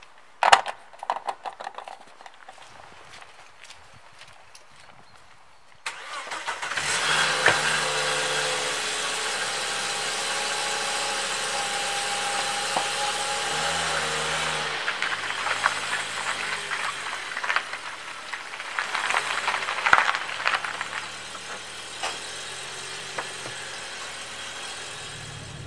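A car with a degraded catalytic converter (fault code P0420, engine warning lamp on) is quiet at first, then its engine starts with a sudden rise in sound. It keeps running steadily, with an uneven drone that swells again near the end.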